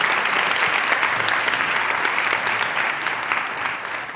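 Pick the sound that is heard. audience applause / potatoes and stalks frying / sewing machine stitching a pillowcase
audience applause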